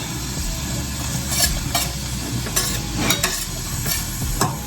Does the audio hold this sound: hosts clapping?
no